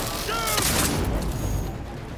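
Gunfire in Cyberpunk 2077 sounds as a loud burst of close shots with booming impacts and mechanical clatter, then fades into a rumbling tail, with a voice briefly present.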